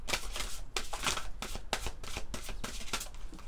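Oracle cards are shuffled in the hands, a rapid run of crisp riffling bursts, close and clear with no talk.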